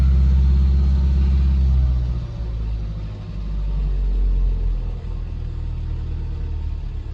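A car engine is running on choke, idling with a deep, close rumble that swells loudly at first, dips, then settles into a steady low drone with no voices.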